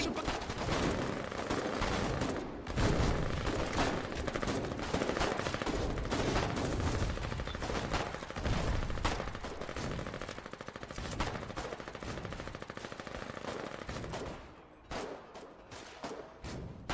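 Gunfire from the war video game Foxhole, with dense, continuous machine gun bursts and rapid shots filling most of the clip before thinning near the end, with faint voices underneath.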